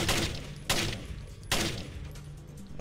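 Enemy gunfire rings out in the stealth game Splinter Cell, sharp shots cracking at intervals, three distinct loud bursts each trailing into a short rumbling decay, with no one speaking.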